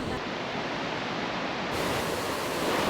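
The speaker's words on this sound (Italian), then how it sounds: "Spero che riuscirete a sentirmi perché Fiume è in piena dopo tutte le piogge che sono venute questi giorni." The Passirio river in Merano, in full flood after days of rain, roars as a dense, steady rush of water that fills the whole clip with no breaks.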